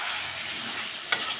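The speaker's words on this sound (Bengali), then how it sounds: "দিয়ে বন্ধুরা ভালো করে এবার কষে নেব। বেশ কিছুক্ষণ কষতে থাকবো।" Chicken scraps stir-fried in a pan, with a steady close sizzle and a couple of sharp scrapes of the spatula near the end.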